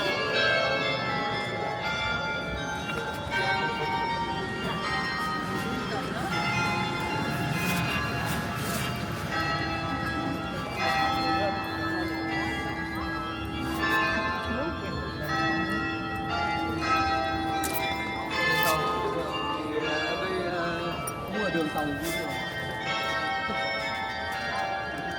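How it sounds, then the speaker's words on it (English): Church bells ring steadily in Erfurt, East Germany, a dense, continuous peal heard outdoors at moderate distance for the whole stretch with faint street ambience beneath. "how nice the bells are ringing right now"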